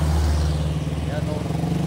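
A motorcycle climbs uphill toward Forest Lake in Bauang, La Union, its engine holding a steady, close, droning hum while the rider talks over it.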